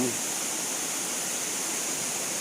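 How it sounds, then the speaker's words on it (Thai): Waterfall flowing at low water level in the late rainy season, heard from the front at its middle point, a steady, even hiss of falling water without pauses, moderately distant and fairly soft. "นี่คือจุดกลางของ ด้านหน้าของน้ำตก"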